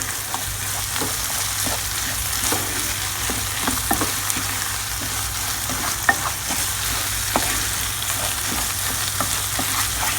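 Bulgur is stirred and toasted in a pan, sizzling steadily while a utensil scrapes and taps against the pan in irregular clicks, close and fairly loud, with no talking.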